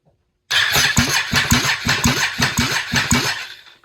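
A high-compression Can-Am engine cranks over on jumper cables in a steady, rhythmic chug of repeated turns, loud and close, without catching.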